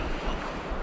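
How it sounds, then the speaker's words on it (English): Waves wash ashore on Upper Red Lake in northern Minnesota, a steady broadband rush of surf with faint wind noise, heard alone for a brief moment. "I can hear the waves."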